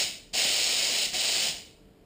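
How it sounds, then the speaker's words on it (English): A cheap paint spray gun blasts thinners through to clean itself, a loud, close hiss in two bursts with a short break between, then cutting off to quiet. "Just running some thinners through at the moment, make sure it's clean."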